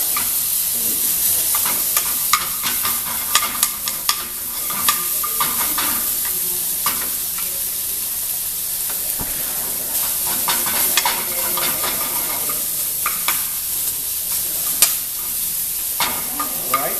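Tomatoes sizzle in a hot pan during a quick sauté, a steady bright hiss with scraping stir strokes and little clicks running throughout.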